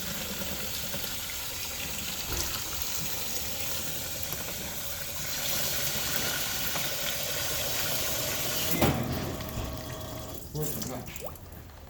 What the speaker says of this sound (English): you're going to fill it up with water until all your pieces are submerged in water